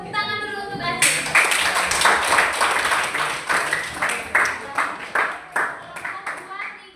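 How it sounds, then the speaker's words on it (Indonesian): Classroom applause from students after a math problem is solved, a burst of many hands clapping that starts abruptly, stays dense and loud, then thins into slower, scattered claps toward the end. "Tepuk tangan dulu untuk Aceh."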